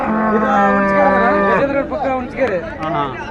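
A cow lows in a long, drawn-out moo beneath a busy crowd at a cattle market in Kustagi, with people talking and chattering nearby.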